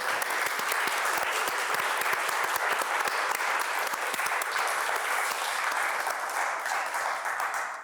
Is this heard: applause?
yes